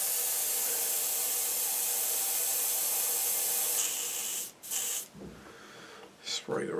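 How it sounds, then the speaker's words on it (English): Steady broadband hiss of a spray gun blowing leftover paint out into a cleaning receptacle while building a model Spitfire kit, continuous for several seconds before cutting out into short bursts and brief pauses. "Spray the rest through."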